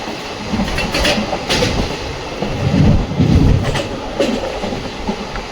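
Aboard the Mysore Ajmer Special Express, a moving passenger train rumbles steadily with rhythmic clickety-clack wheel beats and occasional metallic clanks, loud and close.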